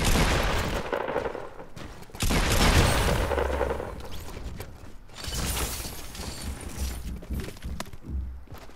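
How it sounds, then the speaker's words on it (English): Gunfire in Fortnite Battle Royale: loud, dense bursts of shots and sharp cracks crowd together, with a heavier barrage near the middle and a continuous clatter of game effects the whole way through. "where are these shots coming from, man?"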